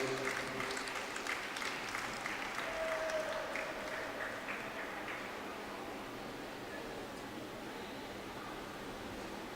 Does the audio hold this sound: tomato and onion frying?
no